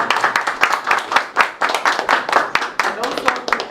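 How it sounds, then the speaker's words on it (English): An audience at a child justice information launch event applauds steadily, a dense run of many overlapping hand claps at close-to-moderate distance, with some voices mixed in. "please let us clap for AICS and our partners"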